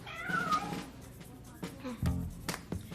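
Cats meowing in a room, several short cries at moderate volume, mixed with some background noise.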